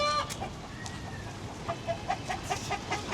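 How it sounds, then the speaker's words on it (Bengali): A hen clucks close by, first a few sharp calls and then a quick run of short, rhythmic clucks, heard alone against a faint background. "আগে হচ্ছে আমার মুরগিটাকে বের করে নিই"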